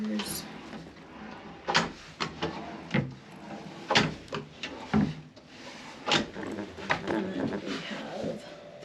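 Wooden cabin drawers on a cruise-ship suite slide open and shut in a string of sharp knocks and rubs, irregular and close by, with a person talking between them.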